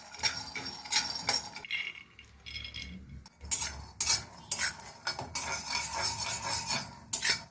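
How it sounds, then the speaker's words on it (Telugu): Peanuts dry roasting in a kadai on the stove, a spatula stirring them in steady bursts of clattering and rattling against the metal pan, close and fairly loud with brief pauses between strokes. "ముందు పల్లీలు వేయించి పక్కన పెట్టుకుంటాను."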